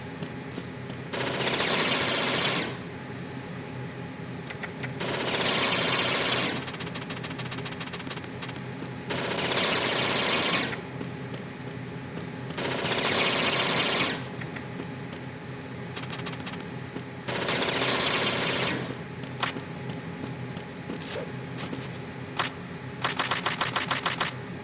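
Bursts of automatic gunfire from the stealth game Metal Gear Solid 2, about five sustained rattling volleys a few seconds apart, loud and close, with a steady background hum between them.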